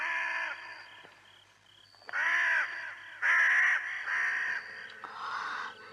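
Harsh, drawn-out crow-like caws in several separate bursts, loud and close, with short quiet gaps between calls.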